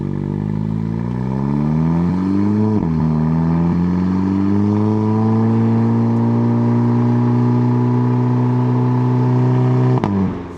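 Tuned 380 hp Seat Leon Cupra 280, Stage 2+ with tuned DSG transmission, accelerating hard from 100 to 200 km/h, engine tone climbing steadily through the gears with a quick dip at each shift, loud and close, with no talk.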